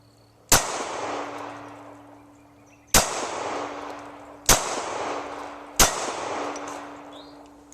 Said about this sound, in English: Still shooting from 7 yards, bulk rounds, 230 grain.